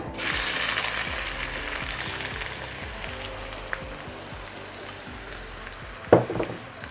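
Onion frying in a pan, a steady crackling sizzle throughout with a brief louder clatter near the end.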